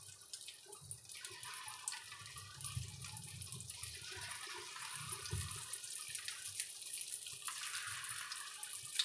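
Punugulu batter fries in hot oil in a kadai, a steady, faint crackling sizzle that hisses continuously throughout, with soft low bubbling underneath.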